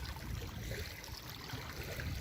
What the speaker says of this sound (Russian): И вот такие волны, как будто на море.